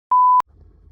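A single sustained electronic beep from The Sims 4 rings clear and loud for about a third of a second, then cuts off to a faint low background hum.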